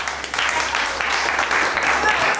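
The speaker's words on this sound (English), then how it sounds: "Clap for yourself" An audience at a fashion show claps for a presenting brand, a continuous ripple of hands mixed with voices, loud and close, with a brief dip near the start before the clapping swells again.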